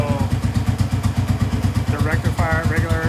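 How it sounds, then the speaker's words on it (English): A motorcycle engine being checked for a battery-charging fault runs with a steady, loud, throbbing pulse, held at a fast idle or light rev. Voices speak over it near the end. "Give the engine a little rev."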